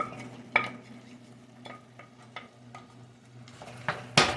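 Bacon being stirred into German potato salad in a pan, with a steady soft sizzle and scattered scraping and clinking taps of the utensil against the pan, close and fairly quiet, with no talking.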